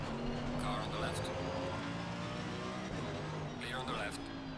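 Race car engine roar in a racing video game at the Hungaroring, a continuous drone with two brief swelling passes as another car goes by, while someone talks over it.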